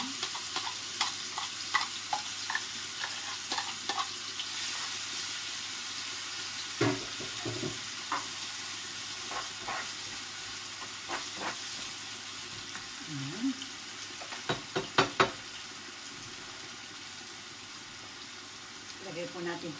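Garlic and onion sautéing in a pan, a quiet sizzle under intermittent clinks and scraping stirs, with a voice talking at times.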